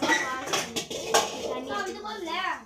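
A metal kadai being scrubbed and washed, with utensils clattering and clinking against it in quick irregular knocks, mixed with nearby voices talking.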